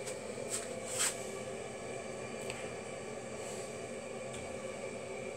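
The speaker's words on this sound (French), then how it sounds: "ce que vous entendez là, c'est ma chaudière, c'est normal" A home heating boiler running in a workroom, a faint steady broadband hiss and hum with a few soft high clicks, distant and low in level with no voices.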